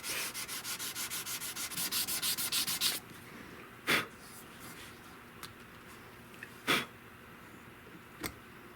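Sanding of the wooden stock of a .410 garden gun: a quick run of even, rhythmic rubbing strokes, close and crisp, then a few isolated single scrapes after a pause.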